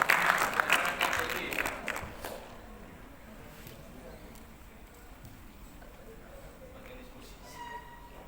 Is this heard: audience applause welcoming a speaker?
yes